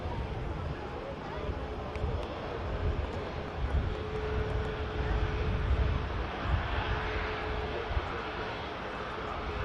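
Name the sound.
EasyJet airliner from Paris arriving at Manchester Airport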